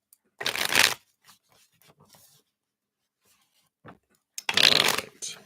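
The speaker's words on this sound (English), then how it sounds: "Let's just give these a shuffle here." Tarot cards being shuffled by hand in two loud, riffling bursts with faint handling clicks between, close up and with no talk over them.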